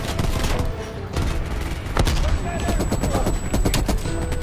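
An M60 machine gun in Call of Duty Cold War firing in rapid bursts, loud and close with dense repeated shots, while a player talks over it.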